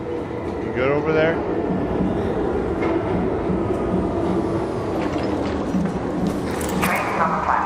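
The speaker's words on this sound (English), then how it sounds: "Trains on the platform." A train sits at and moves along a platform in the Arc Raiders video game, giving a loud continuous rumbling rail drone with clattering and metallic whines, while people talk over it.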